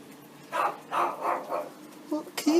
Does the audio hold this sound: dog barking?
yes